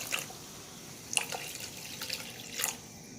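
Faint splashes and trickles of water come in a few short bursts over a quiet background as water is poured into a pan of canned-fish curry with glass noodles.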